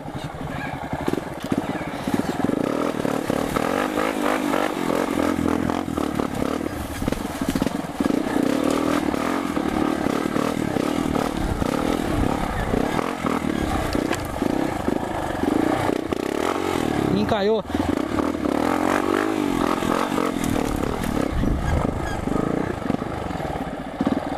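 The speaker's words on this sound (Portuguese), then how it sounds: "não tem como parar a moto aqui" A motorcycle engine idles and revs on a muddy forest trail, loud and close throughout with a continuous rumble, uneven throttle surges and occasional clattering and scraping.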